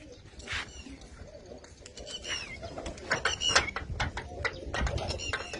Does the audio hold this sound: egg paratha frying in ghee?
no